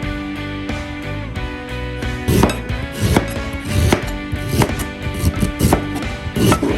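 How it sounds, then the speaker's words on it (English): Knife chopping and peeling ginger and lime for a six-fruit juice, with repeated sharp blade strikes on a board in an uneven rhythm, close and fairly loud, over a steady background hum. "Just continue cutting and peeling the ginger, the lime and everything."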